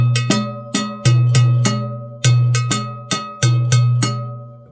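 Timbale bells struck in an Afro-Cuban rhythm variation, sharp metallic clanks falling in a syncopated pattern of groups, loud and clear with no voices.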